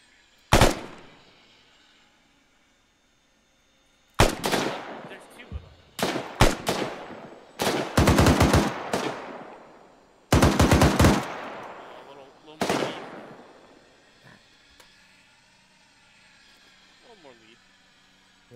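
Bursts of machine gun fire in a military video game mission, several loud separated volleys of rapid shots with quiet gaps between, ending in fainter engine-like rumble.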